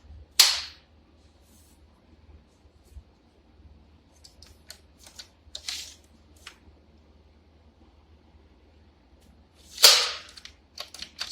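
A Craftsman cordless 16-gauge finish nailer fires two sharp, loud, snapping shots about nine seconds apart, with lighter clicks and handling noises between them in a quiet room.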